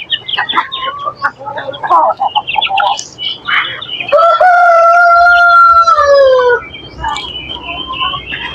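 Native chickens in a backyard flock, with a rooster letting out one long, loud crow mid-clip amid scattered clucks and bird calls before and after.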